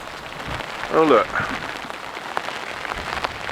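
Steady rain patters across a surface at Baulking Lake on a windy day while a voice speaks briefly over it, the wet hiss continuing evenly throughout.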